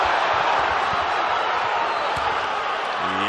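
A basketball arena crowd at an NCAA men's game between Nevada and Colorado State reacts to a foul call with a steady, loud roar of many voices, a broad wash of noise throughout.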